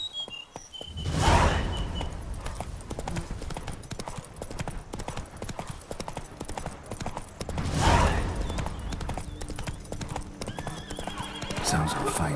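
Horse hooves clip-clop at a gallop in The Witcher 3 video game, a steady rapid rhythm close by with a horse whinnying around the start and again near the eighth second, and a voice speaking briefly.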